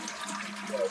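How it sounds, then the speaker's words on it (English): Brief whooshing rush of a toilet flush, close and fairly loud, lasting under a second with no talking. "Flush that toilet."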